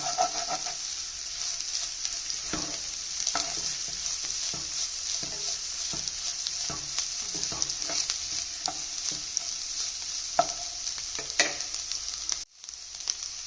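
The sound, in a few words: eggs frying with vegetables in a pan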